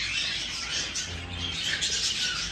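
Emerald dove chicks in a cage give soft, close calls over a steady hiss of background noise, with no talking.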